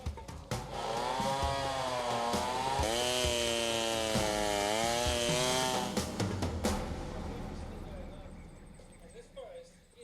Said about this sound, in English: You can hear the chainsaws buzz in the background.